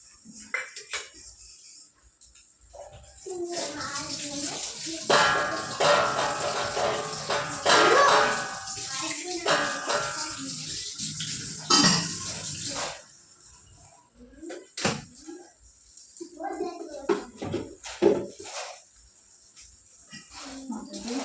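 At home before a puja, a plate is rinsed under running water, giving a steady splashing rush for several seconds with clinks of dishware, followed by scattered knocks and handling noises.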